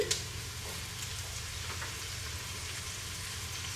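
Diced pepper stirred into a pot of fish soup, giving a low steady bubbling hiss with a single faint clink of the spoon at the start.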